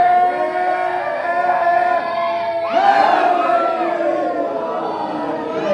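A crowd at a Muharram majlis gathering in Himmatnagar chants slogans together, a sustained wall of massed voices that surges louder near the middle and holds steady to the end.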